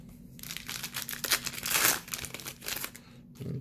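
A Yu-Gi-Oh Speed Duel card pack wrapper being opened, with steady close crinkling and tearing of foil plastic through most of the moment and a louder rustling swell near the middle.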